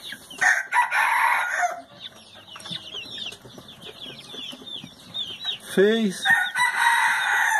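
A purebred Índio Gigante rooster gives one loud, close crow amid clucking and other chicken calls in a farmyard.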